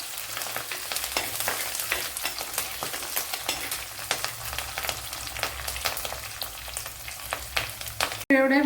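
Garlic and ginger sautéing in a pan for a Kerala-style squid roast, frying with a steady sizzle and bursts of stirring crackle throughout, ending in a brief clatter.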